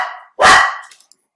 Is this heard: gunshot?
no